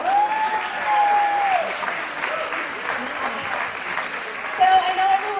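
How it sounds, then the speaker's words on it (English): Audience applause for a band at an evening Parkinson's disease benefit event, a steady broad wash of clapping lasting several seconds, with someone talking over it throughout. "Can we give them a round of applause?"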